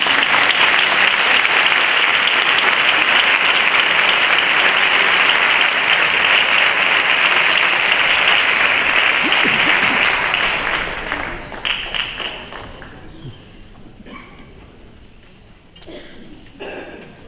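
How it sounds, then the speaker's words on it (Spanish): An audience at a 2016 Santa Cecilia concert by a municipal music band claps in loud, dense, sustained applause for about eleven seconds, then it thins into scattered claps and quiet murmuring. "Un aplauso para él."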